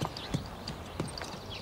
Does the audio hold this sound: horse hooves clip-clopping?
yes